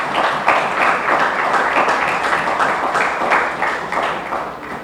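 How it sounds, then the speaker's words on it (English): Audience applause at the opening ceremony of the CAF Player ID Combine 2023, a steady wash of many hands clapping from a large crowd, continuous and fairly loud throughout with no talk over it. "And please give him a round of applause again."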